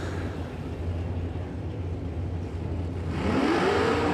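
A drag racing dragster engine at a motorsport event, heard as a steady mid-distance roar that swells louder toward the end, with a rising whine in the last second.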